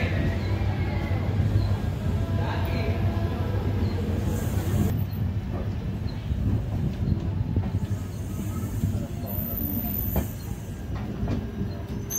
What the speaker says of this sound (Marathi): सुपर जबरदस्त स्पीडने आपली ट्रेन चालत आहे